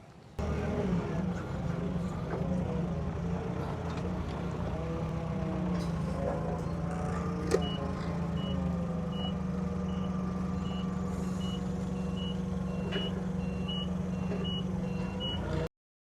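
Forklift engine idles steadily while a reversing alarm beeps in an evenly spaced series, the pair of forklifts lifting a 40 x 40 shade tarp up onto a steel frame outdoors.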